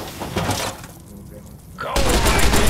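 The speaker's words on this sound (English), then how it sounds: "that sounds like that's a pretty big gun" Heavy gunfire from a large cannon in a space-battle video game, dense loud blasts and crashing impacts filling the clip, with a sharp louder burst near the end and voices talking over it.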